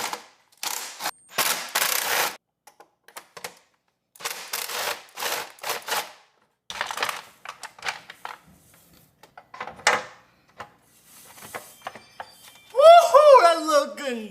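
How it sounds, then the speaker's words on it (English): A ratchet wrench clicks in short bursts while unbolting the engine valve cover bolts on a 2017-up Honda Civic Type-R (FK8/FL5), rapid close pawl ticks separated by pauses, with a voice exclaiming at the end. "I'm just gonna unbolt it and rebolt it."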